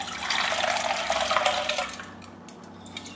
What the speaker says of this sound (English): And then what you do is you tip out the water